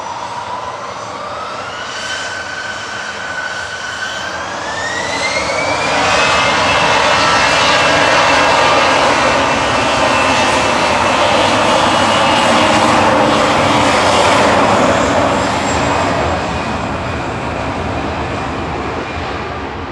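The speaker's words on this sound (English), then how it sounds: "I think that was one of the ex-Thomas Cook aircraft in the fleet that they bought." An airliner formerly flown by Thomas Cook passes at Manchester Airport, its jet engine roar rising from a whining approach to a loud, broad rush that peaks mid-pass and then slowly fades, with no talking.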